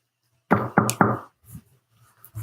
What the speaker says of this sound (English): I like knock on the door a few times